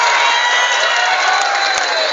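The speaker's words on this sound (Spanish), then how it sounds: "¿Qué pasó con ese aplauso?" A large crowd cheers and whoops at a wholesale club store launch, a dense continuous roar of voices and applause filling the space, loud and close with no pauses.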